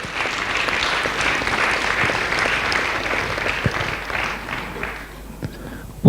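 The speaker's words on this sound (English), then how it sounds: "that company deserves a huge round of applause" A crowd at a corporate send-off event applauds for a company, with sustained, dense clapping that tapers off near the end before a sudden loud burst.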